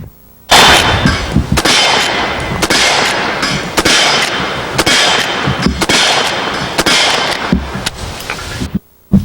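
Rifle rounds fired one after another at an outdoor shooting session, about six loud, sharp cracks at a steady pace with metallic clangs and the rattle of the action being worked between shots, up close and with no talking.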